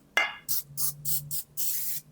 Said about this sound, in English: I'm gonna spray our pan with some nonstick spray.